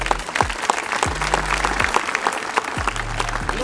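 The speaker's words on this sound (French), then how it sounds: "que vous pouvez applaudir" Audience at a January civic gathering in Perpignan applauding local artisan bakers, a full, close, continuous burst of many hands clapping with regular low thumps beneath.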